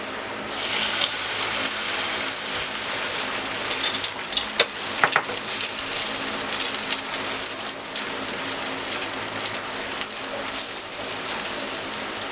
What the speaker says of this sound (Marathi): तेल तापलेलं आहे, आता अंड्याचं मिक्सचर घालून घेऊया।